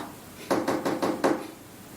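Five evenly spaced knocks tap out a Morse code pattern in the video game Her Story, sharp and fairly close against a quiet background, with no voices.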